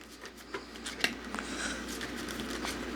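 Tarot cards are shuffled by hand in quiet, soft bursts of papery riffling and rubbing, close and faint, with a few sharper flicks.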